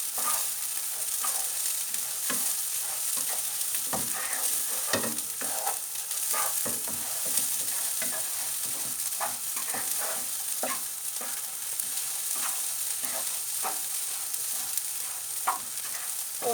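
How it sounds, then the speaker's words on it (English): Rice frying and sizzling steadily in a pan with salt while making Turkish pilav, with a constant hiss and frequent scraping stirs of the spoon, heard close and alone. "The reason I put the salt this stage is that it actually helps the rice from breaking up."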